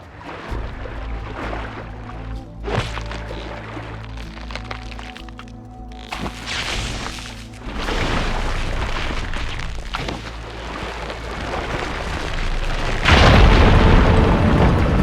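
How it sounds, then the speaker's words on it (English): Firegleam deposits on rocks ignite in Horizon Forbidden West, giving a loud booming crack near the three-second mark. Later, heavier rumbling blasts follow over a steady game soundscape, building to a strong burst near the end. "Igniting it should clear the way."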